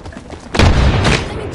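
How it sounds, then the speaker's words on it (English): A grenade blast in a video game session erupts as a dense low boom midway through, rumbling on for about half a second before fading, with faint background game noise around it. "Grenade, fellas."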